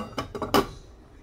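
A metal lid clatters onto a cooking pot in three quick clinks, the last one loudest, then rings out briefly nearby.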